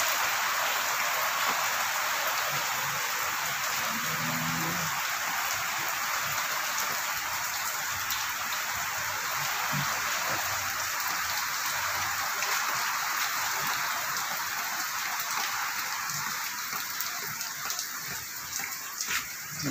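Dense, steady downpour in Quezon City hisses without pause, thick rain pattering on surfaces and plants all around, with a few faint background knocks.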